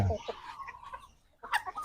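A few short chicken clucks sound close by, with a brief quiet gap between bursts.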